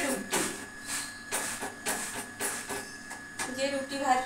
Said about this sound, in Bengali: যে রুটি ভাজছি ব্রেকফাস্টের জন্য